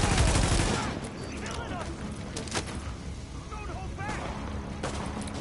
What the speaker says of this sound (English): you're shooting behind me.